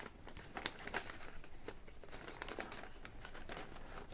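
Soft crinkling and rustling of paper as facsimile sheets from a deluxe illustrated Lord of the Rings edition are pushed into their own little envelope, with a couple of sharper crackles early on and quieter shuffling after.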